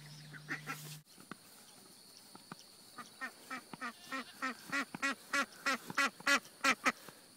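Khaki Campbell ducks quack in a quick run of loud, close calls that build in pace and strength, with a brief tone at the start and no talk.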